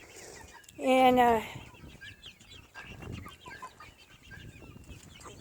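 A chicken gives a loud, drawn-out cluck near the start, followed by softer scattered clucks and rustling; a voice briefly speaks.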